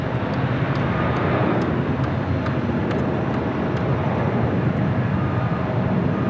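An airliner departing LAX for Seoul produces a low, steady jet rumble at moderate distance, a broad continuous roar with no voices over it.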